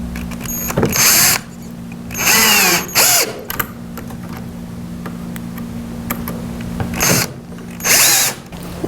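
Power drill driving screws into a wooden tripod floor lamp leg clamped to a bench, four loud whirring bursts of about half a second to a second each, close up, separated by quieter workshop pauses with faint ticks.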